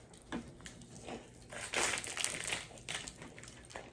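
Plastic wrapper crinkling and tearing as it is pulled off food, a run of close crackly rustles that swell louder midway and then ease off, with no talking.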